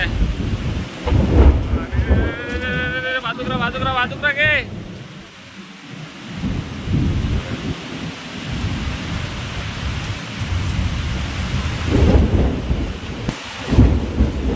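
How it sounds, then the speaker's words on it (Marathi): Heavy first monsoon rain in Konkan, India, pours steadily with deep rumbles of thunder and gusty wind noise, while a voice talks briefly near the start. "हा जोरदार पाऊस होणार आहे आता आता सुरुवात झालेली आहे पावसाला"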